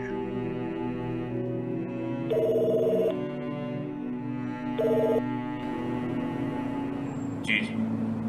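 A telephone rings in two loud electronic bursts over a low drone and murmur in a dramatic television scene, with a brief high chirp near the end.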